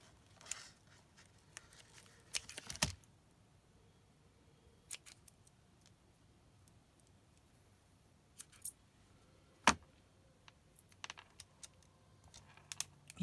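Scissors snip a folded paper heart embellishment in a few quick, close, crisp cuts separated by quiet handling sounds, with no talking.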